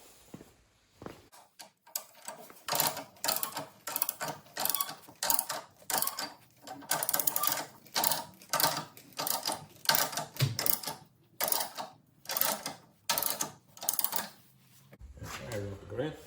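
A jack lifts a boat trailer with rhythmic, repeated ratcheting clacks, about fifteen close, crisp strokes at a steady pumping pace, with short pauses between them.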